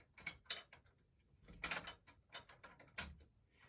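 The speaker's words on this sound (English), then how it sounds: "I've got to unlock my bars so that we can move everything." Clicks and clunks from releasing the bar locks on a longarm quilting machine, a series of sharp mechanical knocks spaced irregularly, fairly close and moderately loud, with no talking.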